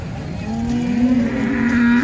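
A cow moos in one long, steady, loud call close by at a Modnimb cattle market where heifers and dairy cows are traded.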